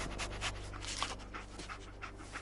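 Dogmeat, the dog companion in Fallout 4, pants steadily in quick rhythmic breaths, close and moderately loud over a low game ambience.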